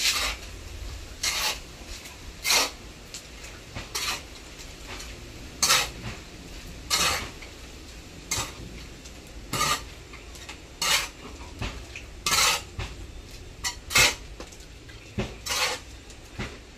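A mason spreads wet mortar with a trowel, giving a series of regular, sharp scraping strokes about once a second, close and clear over a low background hum, with no talk.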